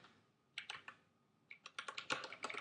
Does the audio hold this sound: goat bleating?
no